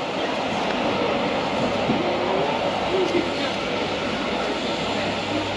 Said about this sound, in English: But the Three Bridges and Sirmix trains are leaving simultaneously.